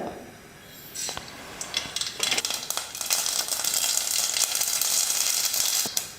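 Mustard seeds crackle and sizzle in hot oil, starting with sparse pops and building into a dense, loud spattering hiss.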